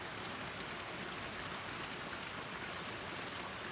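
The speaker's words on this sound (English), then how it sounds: "Listen to the sound of the river." A river flowing outdoors, a dense, even wash of rushing water that holds steady and fairly soft from start to finish.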